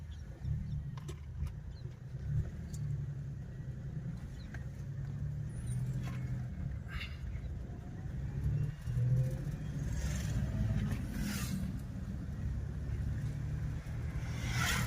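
A Mahindra Bolero with a suspected damaged fuel pump idles steadily close by, a continuous low engine rumble with faint ticks and small fluctuations, no voices over it.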